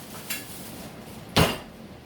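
Polenta being handled in a Pyrex glass dish: a faint clink, then one louder, sharper knock of glass about a second later, each brief and alone against quiet room tone.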